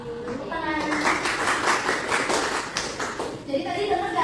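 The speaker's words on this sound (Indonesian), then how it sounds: "Tepuk tangan." A group of children claps hands together in a steady burst of applause lasting several seconds, close and lively, with chatter mixed in.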